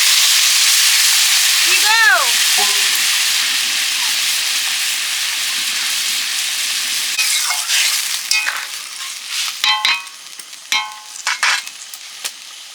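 Water poured into a hot pan for rohu fish curry in an open kitchen at night, a loud close hiss and sizzle bursting up and slowly fading, followed by scattered stirring clatter.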